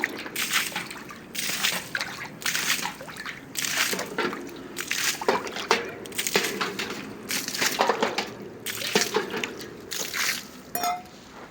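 An automatic water bowl in a cattle shed refills, with repeated gushing, sloshing bursts of water and drips in an uneven rhythm, loud and close.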